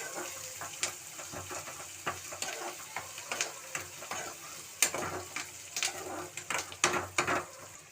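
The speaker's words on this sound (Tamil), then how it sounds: "வெங்காயம் நல்லா வதங்கட்டும்." Onions sauté in a pan with popped mustard seeds for Tamil-style potato masala, giving a soft sizzle broken by repeated scraping stirs and clinks of a utensil against the pan, close and fairly quiet.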